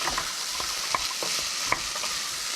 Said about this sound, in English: Carrots and celery. Give that a good stir.